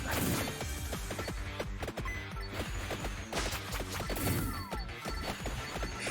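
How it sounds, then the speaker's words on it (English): Repeated sharp glass-smashing crashes and thwacks in quick irregular bursts from the video game Vampire Survivors, windows shattering loudly over a busy game soundtrack with no talk. "I wonder if smashing those windows actually does anything."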